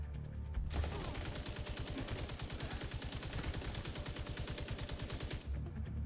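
Rapid automatic gunfire in The Division 2, a sustained loud burst of evenly spaced shots running about five seconds before cutting off abruptly, with no talking over it.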